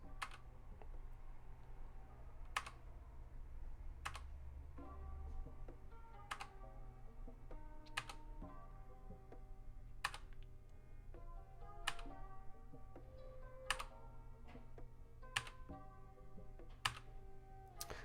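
Keys clack steadily on a Keychron K2 mechanical keyboard, a run of close, crisp taps with sharper louder strikes scattered through it over a low background hum.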